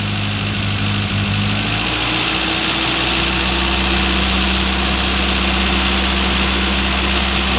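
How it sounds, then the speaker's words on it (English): A carbureted classic Mini engine idles close by, its low hum shifting partway through as the ignition advance comes on and the revs climb and settle at a higher, even drone. "You'll hear the RPM go up when the advance comes on."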